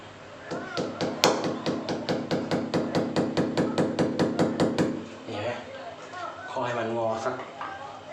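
A hammer knocks on a broken screw stuck in a wall, striking in a steady, rapid series of about twenty sharp metallic taps up close, then stopping as a voice talks briefly.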